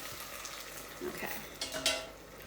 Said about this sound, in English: Stir, stir, stir. You just don't want it to stick.